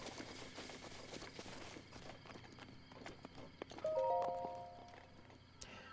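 Horses in Breath of the Wild clip-clop away at a run, hoofbeats fading off under game ambience, with a short tonal game chime near the end.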